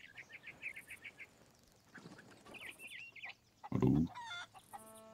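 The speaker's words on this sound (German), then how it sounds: "Ein Huhn." Chicken clucking in the pirate video game Sea of Thieves, a short run of repeated clucks and squawks with game ambience, a louder burst of flapping or movement near the end.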